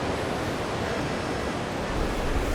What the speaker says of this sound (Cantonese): 呢個海真係好大浪啊